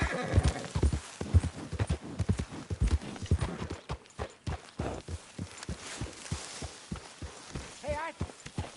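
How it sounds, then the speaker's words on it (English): Rhythmic clip-clop of horse hooves trotting close by in the video game Red Dead Redemption 2, steady and fairly loud, with a brief horse whinny near the end. "what's that horse doing"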